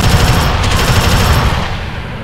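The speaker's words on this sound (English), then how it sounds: "Sentry gun active!" Sentry gun in the Alien Swarm video game firing a sustained automatic burst, loud and dense throughout, with rapid repeated shots that ease off slightly near the end.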